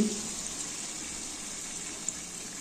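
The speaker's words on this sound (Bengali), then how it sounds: "এবার জল দিয়ে দিচ্ছি।" Water is poured into a pan of chicken cooking for a Bengali chicken dish, a steady hissing, splashing pour that holds at an even level throughout.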